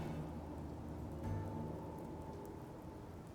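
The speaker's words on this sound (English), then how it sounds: "We decided to take shelter from the rain." Steady rain falls in the horror adventure game Death Mark, a soft, even hiss with no break from start to finish, faint and distant, with a brief low swell near the middle.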